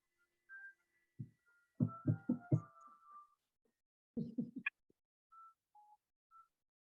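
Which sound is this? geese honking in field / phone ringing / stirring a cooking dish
phone ringing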